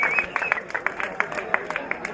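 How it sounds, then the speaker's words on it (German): A small outdoor crowd claps at a bobby car race, light scattered applause with distinct individual claps, fairly faint and even throughout. "Applaus für Marco."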